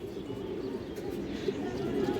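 A pair of high-quality army pigeons, a male and a female, give low cooing calls at close range, soft repeated coos over a faint steady room noise.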